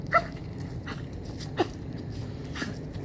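Dogs on a leash during a walk, giving a few short whimpers and yips spaced out over steady outdoor background noise.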